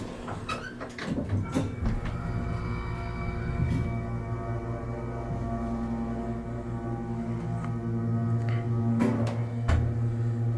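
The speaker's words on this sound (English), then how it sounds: "Listen to the motor." The motor of a vintage 1969 General hydraulic elevator at a beach resort hums with a low steady drone, joined by clunks and sliding-door thuds near the start and end, heard from inside the car.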